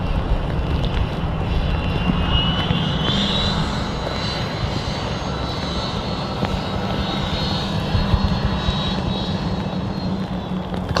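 An airliner's engines drone at Manchester Airport, a steady roaring hum with a rising whine partway through, loud and continuous with no voices.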